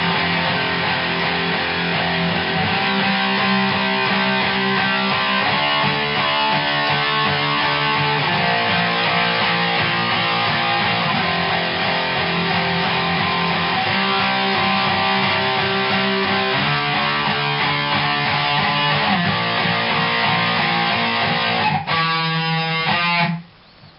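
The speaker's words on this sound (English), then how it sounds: "the entire chorus riff sounds like this" The chorus riff on distorted electric guitar, a run of repeating note patterns played slow and then faster, loud and continuous before cutting off abruptly at the end, with no talking.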